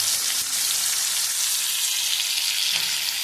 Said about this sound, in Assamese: তাৰপিছত আলু দমখিনি পিঁয়াজখিনি ৰঙচুৱা হোৱালৈকে ভাজিব লাগিব